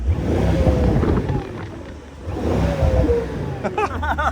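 Mercedes-AMG GT63 V8 with turbos revving loudly and continuously nearby, with a rising and falling roar, a brief dip in the middle and sharp whooshing turbo flutter near the end, with wind noise across the microphone.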